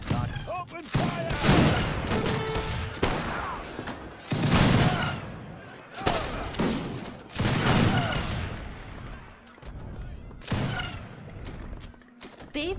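Volleys of gunfire from units in Age of Empires 2, a modded Definitive Edition match: repeated loud bursts of massed musket shots about every second or two, with brief game voice lines between the salvos.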